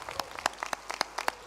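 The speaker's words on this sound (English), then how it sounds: "Clapping and cheering are definitely in order." Scattered claps from a graduation ceremony audience honoring the class of 2023, heard as a dozen or so separate sharp hand claps in an uneven rhythm, fairly faint and sparse rather than a full ovation, with no cheering evident.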